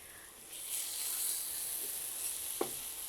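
Potatoes being stirred and lightly fried in a pan for pakora, a soft continuous sizzle with a faint scrape of stirring partway through, close and fairly quiet with no talking.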